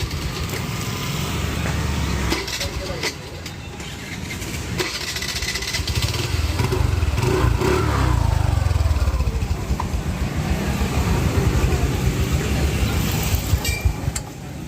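A motorcycle engine runs close by, idling roughly and then rising in throttled revs that swell and hold for several seconds before easing, loud and continuous with no clear voices.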